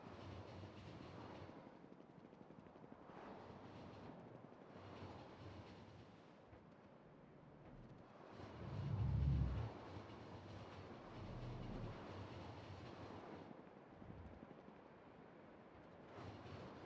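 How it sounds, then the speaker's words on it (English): Trains rolling along in a heavily modded factory-building game, a faint continuous rumble of rail wagons with soft clatter swelling and fading over about seventeen seconds, no talking. "Trains are on the way from drill heads."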